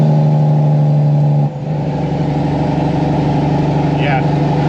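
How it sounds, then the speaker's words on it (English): A loud, rumbling truck engine drones steadily, its pitch dropping briefly before continuing a throaty, staccato Jake brake growl. "These Jake brakes are real loud too."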